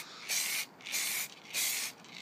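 Aerosol spray paint can spraying matt black onto a windscreen wiper in three short hissing bursts with brief pauses between them, close and even.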